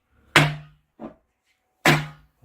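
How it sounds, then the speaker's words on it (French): A hammer strikes the tuning wedges of an atabaque drum, giving two sharp, resonant knocks with ringing decay. A softer tap comes between them and another begins at the very end. "Quand je tape une cale, je vais taper la cale opposée."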